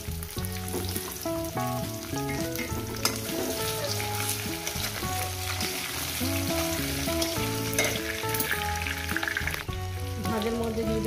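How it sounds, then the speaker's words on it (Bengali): Taro pieces fry in a pan, giving a steady sizzle that runs throughout under melodic background music. "কচুটাকে মিনিমাম 6-7 মিনিট ধরে আমি এটাকে ভেজে নেব"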